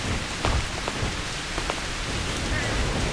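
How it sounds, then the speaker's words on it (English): Steady rain falling in the video game TERA Online, a continuous hiss of droplets with a few soft low thumps, moderately loud and unbroken. "At this point, all we've got is rain and terrain and all falling waterfalls"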